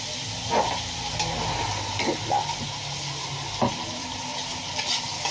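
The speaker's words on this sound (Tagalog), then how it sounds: "i-brown-brown mo yung sibuyas or yung bawang pala" Onion and garlic frying and being stirred in a pan for kare-kare, a steady sizzle broken by several sharp scraping stirs, close and alone with no talk.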